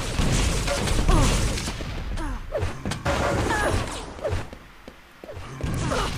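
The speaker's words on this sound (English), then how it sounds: "Oh, direct rocket to the face from Lincoln." Rocket explosions and heavy weapon fire in a fast Quake-style arena deathmatch, one rocket blast landing on a player amid dense continuous gunfire, impacts and item pickup noises, loud and busy throughout.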